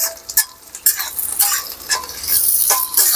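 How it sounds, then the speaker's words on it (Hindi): Onions and garlic sizzling in a pan on a truck driver's roadside cooking setup, a loud hiss punctuated by repeated scraping strokes of a spatula stirring, no speech. "लहसुन लाल हो गया है, प्याज व्याज डाल रहे हैं। प्याज डालने के बाद थोड़ा चलाना पड़ता है इसको।"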